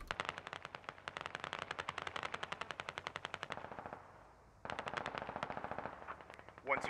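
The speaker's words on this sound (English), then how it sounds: "Shots breaking out in multiple places." Rapid automatic gunfire from the Squad Ops video game, long bursts of dense shots that stop briefly and then resume, loud and continuous with a sharper single crack at the end.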